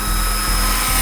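A JCZK 300C PRO RC helicopter hovers close by in the wind, its rotors and motor making a loud, continuous high whine with a throbbing low buzz.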